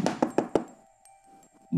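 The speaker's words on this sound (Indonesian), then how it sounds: "Mbah Suto mengetuk jendela kayu sambil berteriak." Four quick, evenly spaced knocks on a wooden window, close and hollow, followed by a quiet pause and a faint muffled stir.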